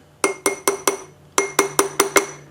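A hammer taps a metal part of a Maytag 72 engine under repair nine times in two quick rhythmic groups, each strike a bright ringing clink, close and clear.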